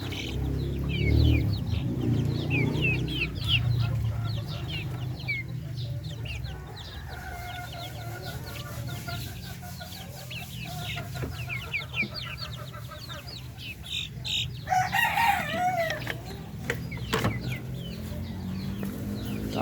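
Native Darag chickens and upgraded native chickens with young chicks cluck and peep close by through a farm pen in rainy weather, with steady chirping and occasional louder clucks and crowing over low rumbling background noise.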